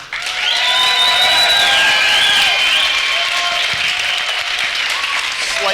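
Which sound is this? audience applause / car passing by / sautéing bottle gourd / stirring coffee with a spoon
audience applause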